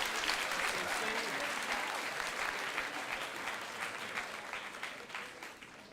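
A crowd claps at a 2022 school opening assembly, many hands blending into a continuous, fairly loud patter that eases slightly toward the end.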